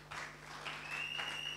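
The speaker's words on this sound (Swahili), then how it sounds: "Pige makofi kwa ajili ya watumishi wa Bwana." Applause breaks out from a church congregation at a youth camp service, a steady round of clapping that swells and holds for a moment, fairly close and filling the room with no voices over it.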